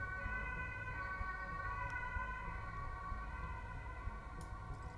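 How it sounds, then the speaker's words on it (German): An ambulance siren out on the street in Germany, a faint, steady wailing tone heard from indoors over a low rumbling background, with no talking. "So, haben wir wieder Krankenwagen bei mir hier unterwegs."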